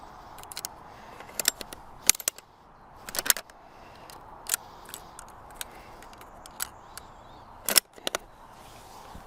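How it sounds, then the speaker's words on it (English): The bolt of a childhood rifle is worked, giving scattered sharp metallic clicks and clacks up close, irregularly spaced and fairly quiet, with no one talking. "And then bolt comes up, pushes the bolt out, puts that in there."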